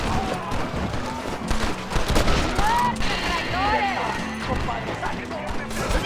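In a Red Dead Redemption mission at the gates of El Presidio, gunfire crackles in scattered bursts and volleys. Shouting voices and hoofbeats mix in, and loud talk runs over much of the action.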